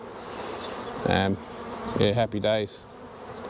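Honey bees buzz in a steady close drone while being transferred into a Flow Hive, with louder passes of single bees rising and falling over the swarm and brief talk mixed in.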